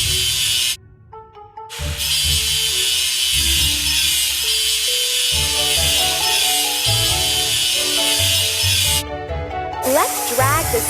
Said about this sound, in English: Let's drag the sander to the seam to make the surface even.